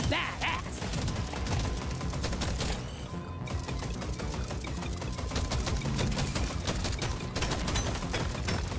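Rapid shotgun blasts from a sawed-off, fast-firing four-direction weapon in a bug-swarm shooter game, dense repeated booms over busy mining and combat noise, loud and continuous.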